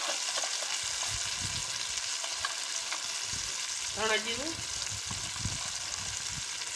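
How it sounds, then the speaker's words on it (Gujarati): Spice masala for undhiyu fries in hot oil while being stirred, a constant close sizzle with scraping under a brief spoken line. "મસાલો બધો મિક્સ કરી બરોબર તેલમાં પાકવા દઈ"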